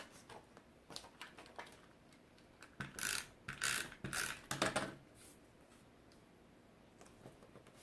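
A 2.5-inch circle paper punch cutting through vellum gives a few close mechanical clicks and clunks, with a cluster of louder snaps in the middle and quiet handling before and after.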